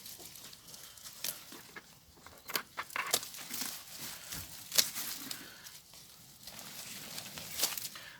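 Rustling cuts through a wind-damaged potato plant's foliage, with scattered crinkling snaps and a few sharper crunches, close and fairly quiet, no talking.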